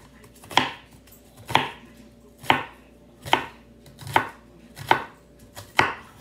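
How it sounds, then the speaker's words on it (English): A knife chops through onions on a cutting board in a home kitchen, seven evenly spaced, crisp chops about one per second, close and clear with no talking. "I'm going to cut this one up. Cutting three onions up."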